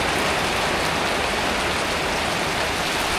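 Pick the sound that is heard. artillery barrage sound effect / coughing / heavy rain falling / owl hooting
heavy rain falling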